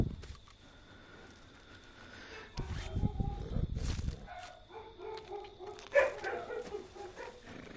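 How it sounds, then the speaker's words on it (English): Dogs bark indoors in the background, reacting to someone outside, with a few scattered barks rising over a low room hum and louder handling noise midway. "Sorry for the dogs barking."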